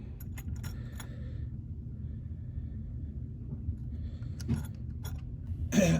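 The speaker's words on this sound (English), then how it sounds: "opening up our little pack of hardware screws here, we're going to use the 2 smallest ones and then 2 of the small washers" Small hardware screws and washers jingle in a plastic pack as it is opened for a telescope focuser install, light metallic rattles in short clusters at the start and end over a low background rumble.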